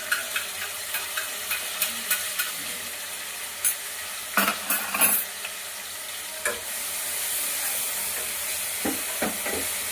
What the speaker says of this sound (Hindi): बस अब ये प्याज डालूंगी, पहले पीसी हुई, इसको अच्छे से भून लूंगी